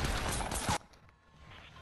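Pistol fire in the Fortnite video game: a loud, dense burst of shots lasting under a second, then an abrupt drop to quiet background.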